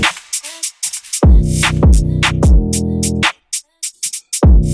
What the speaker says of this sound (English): So the drums sound like this.